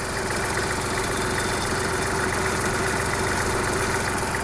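A Kubota GL-220 mini tractor engine idles steadily with a constant low rumble and fine rhythmic chugging, close by and loud throughout, with no talking.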